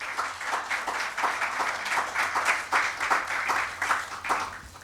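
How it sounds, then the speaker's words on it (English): Conference audience applauding for a minister at a G20 event, a steady burst of many hands clapping with a rhythmic pulse, fairly near and continuous throughout. "Please give him a round of applause."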